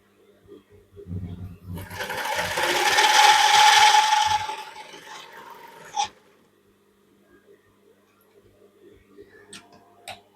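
Brother LZ2 B854 zigzag sewing machine with oscillating feed running fast in a loud, steady whir of a few seconds, with a short start and a sharp stop, then quiet with faint handling clicks.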